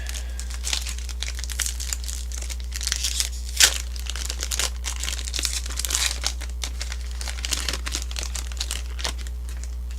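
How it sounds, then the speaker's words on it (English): Plastic wrapper of a baseball card pack crinkles and crackles steadily up close while being unwrapped, with one sharper crunch partway through and no talking. "Sorry if that crinkling's really loud, but really nothing I can do about that."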